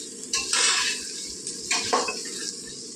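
Potato and mutton curry frying in oil in a pot, with a utensil scraping and clinking against the pan in a couple of stirring bursts over a steady background sizzle.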